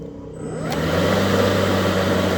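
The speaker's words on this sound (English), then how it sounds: "now I'm going to start the engine on without turbo for a second so you can hear it" An EGO 56v electric lawn mower, 2019 model, starts without turbo, its whirring motor spinning up over the first half-second and then humming steadily and loudly up close with no talking.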